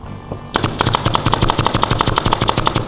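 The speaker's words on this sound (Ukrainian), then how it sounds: "я на радощах вже всі, всі скоби в дерев'яшку вистріляв" A Dnipro-M PN-30P pneumatic stapler fires staples into a piece of wood in a quick, steady string of about two dozen sharp, close snaps after a brief quiet start.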